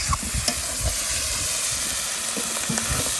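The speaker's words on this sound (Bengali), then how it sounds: "আমাদের কিন্তু মাংস কষাই হয়ে গেছে, এবার আলুটা দিয়ে দেবো।" Potatoes go into a pan of desi duck meat curry that has been frying down at an outdoor picnic in the Sundarbans, giving a steady, close sizzle with scraping stir strokes and no talking.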